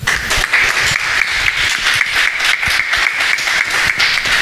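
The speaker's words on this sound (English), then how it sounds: "A round of applause for that." An audience at a Birmingham music industry panel bursts into loud, sustained applause, a dense and steady wash of many hands clapping together that lasts several seconds without pause.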